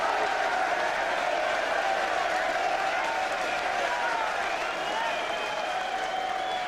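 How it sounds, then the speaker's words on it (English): Ironic applause from the crowd at a Gloucester versus Saracens rugby match after a forward pass call, a sustained distant patter of clapping across the stadium beneath a steady tonal hum and murmur. "Ironic applause"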